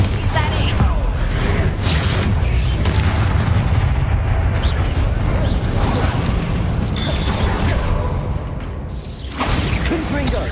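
A Bombarda blasting spell goes off in Hogwarts Legacy amid a loud, busy magical duel, with heavy booms, mechanical clatter and whooshes running almost without a break, a short bright burst near the end.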